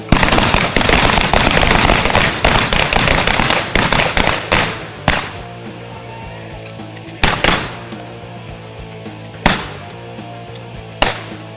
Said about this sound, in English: Continuous fire all the way down to the threat.